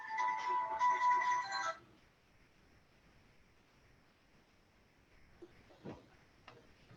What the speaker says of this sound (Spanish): justo entró una llamada en mi celular